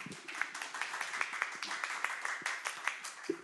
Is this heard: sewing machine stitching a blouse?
no